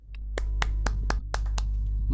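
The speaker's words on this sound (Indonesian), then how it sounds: "kita tepuk tangan dulu yuk sama-sama di tempat kita masing-masing" Hand clapping at a church prayer gathering: a handful of sharp, separate claps, roughly evenly spaced and close, over a low steady hum with no talking.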